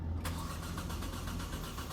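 A car engine cranks and catches during a bad-injector diagnosis, a dense continuous mechanical drone filling the whole moment, close and loud, with no talk.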